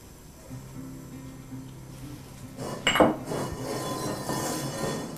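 Eggplant sautés in olive oil in a wok for ratatouille, a soft sizzle swelling after a sharp metallic clank of a utensil against the pan, with low rumbling kitchen noise underneath.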